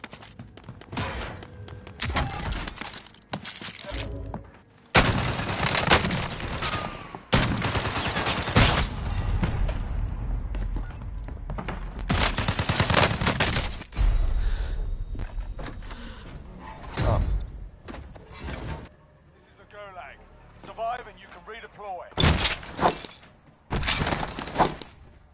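Shotgun gunfire in the game Warzone: loud, close bursts of shots and shattering impacts in irregular clusters, separated by quieter gaps with mechanical clicks.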